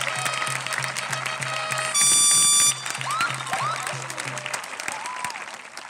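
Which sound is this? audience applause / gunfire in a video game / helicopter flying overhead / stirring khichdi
audience applause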